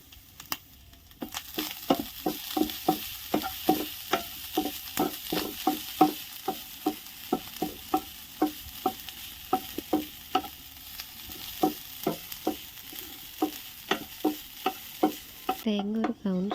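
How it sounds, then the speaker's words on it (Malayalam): A spoon stirs grated coconut roasting in a pan for a prawn and roasted coconut curry, making steady rhythmic scraping strokes with a soft sizzle underneath, close and fairly quiet, with no talking. "തേങ്ങ ഒരു ബ്രൗൺ ഷെയ്ഡ് ആവുന്നവരെ നമ്മളിങ്ങനെ വറുത്തുകൊണ്ടിരിക്കുക"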